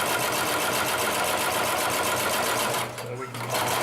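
Consew 733R-5 industrial sewing machine running steadily as it stitches through folded layers of leather and fabric, a close continuous mechanical whir that dips briefly near the end before resuming.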